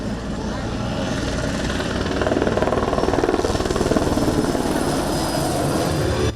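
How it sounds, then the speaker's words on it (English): A Czech-built Zlin Z242L Zeus training aircraft flies past at an airshow, its propeller engine a loud, steady drone with a throbbing pulse that swells in the middle before easing off. "The Czech-built Zlin Z242L Zeus represents the cornerstone of the modernised training fleet"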